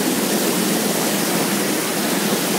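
A waterfall at an old mill pours in a dense, unbroken roar of rushing water, close and loud, with no other sounds.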